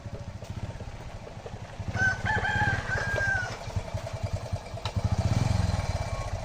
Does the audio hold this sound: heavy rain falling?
no